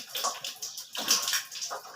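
Water splashed and sloshed across a shop floor during cleaning, a close, steady series of wet swishes and splashes with no talking.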